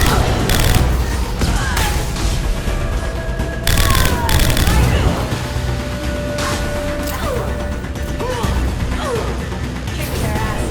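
Rapid gunfire and heavy impacts in a Mass Effect 2 firefight, loud bursts of shots with crashes and mechanical clatter throughout, mixed with faint game voices.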